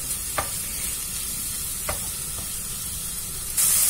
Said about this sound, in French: Et je fais revenir mes champignons jusqu'à ce qu'ils rendent tout l'eau.